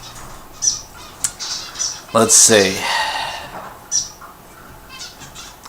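Restless birds squawk in several sharp bursts, with one loud harsh cry standing out near the middle, mixed with fluttering sounds and heard beneath someone talking.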